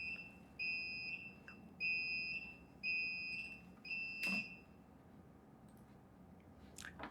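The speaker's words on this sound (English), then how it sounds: "If this device is going to go into an alarm, it will tell you" A fire alarm device sounds four evenly spaced warning beeps, shrill and electronic, followed by a sharp click and brief faint noises in a quiet indoor space.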